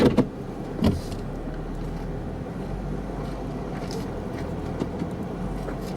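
A Jeep engine idles low in first gear as it creeps toward a rock obstacle on an off-road trail: a steady, muted rumble with a few brief clicks and knocks near the start.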